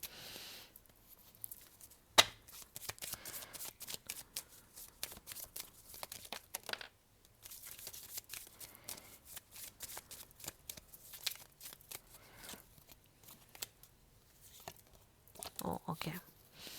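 Tarot cards are shuffled by hand, with soft papery riffles and flicks coming in uneven bursts close by and a brief sharp snap early on. A voice talks quietly at times.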